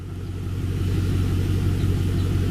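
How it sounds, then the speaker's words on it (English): A 2002 Chevy Silverado 5.3L pickup truck engine idles roughly with a misfire and stumble, a steady, loud low rumble and an even throb, running continuously up close. "I just started the truck up. This thing here is pretty loud."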